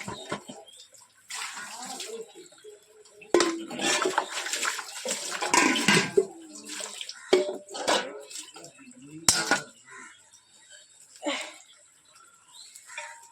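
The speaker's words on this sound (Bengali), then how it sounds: "এখন এই বাসন কোসনগুলো ধোবো।" Dishes, pots and pans being washed under running water in a home kitchen, with splashing and clattering that swells and fades in bursts, close by.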